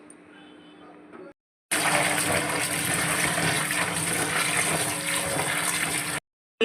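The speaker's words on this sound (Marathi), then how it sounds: "हिला आता साफ पाण्याने आपण धुवून घेऊ" Clean water gushes steadily over soaked chana dal in a vessel, a loud continuous rush bracketed by brief silent cuts.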